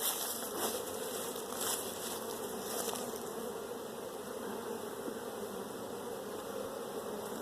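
Dense, steady hum of many honey bees swarming around an open hive while frames are worked, a continuous close buzz with faint rustling and no talk.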